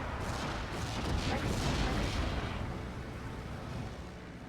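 An artillery barrage in the Steel Division war game rumbles as a dense, loud wash of overlapping booms and blasts that swells in the middle, then thins out.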